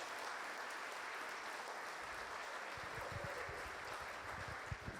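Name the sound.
audience applause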